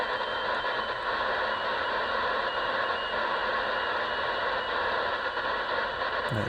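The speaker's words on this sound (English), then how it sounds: "That Morse code there" Morse code signal on a nighttime shortwave radio band near 6604 kHz, beeping tones buried in a constant loud hiss of static.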